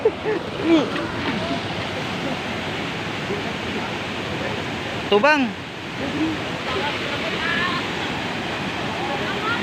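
A waterfall at Lake Sebu, South Cotabato pours in a steady, loud broadband rush of falling water, close by, while people talk and shout over it.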